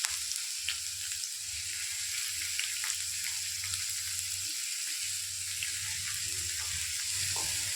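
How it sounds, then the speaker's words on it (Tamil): Onions and tomatoes sautéing with rock salt in a pan, an even hissing sizzle with a low pulsing hum beneath and faint occasional taps, close and steady throughout. "எல்லாத்தையும் ஒன்று சேர்த்து தேவையான அளவு கல்லுப்பு போட்டு நல்லா வதக்கி எடுத்துக்கலாம்."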